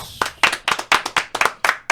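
Applause from a small podcast audience for a local comedian guest: a short burst of about eight sharp, evenly spaced claps, close and distinct rather than a blended roar.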